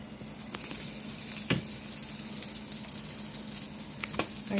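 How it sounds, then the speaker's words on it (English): An omelet sizzles steadily in a Techef omelet pan, a soft even frying hiss with a few faint crackles and light clicks, close and fairly quiet with no talking. "Let it cook just like that for a few seconds."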